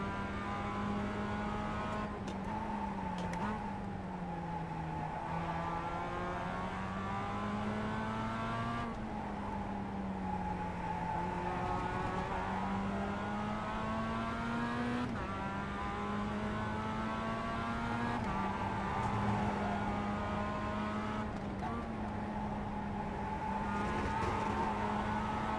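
A race car engine in the iRacing sim drones loud and steady, pitch rising and falling through gear changes and corners, with occasional tire squeal and no talk.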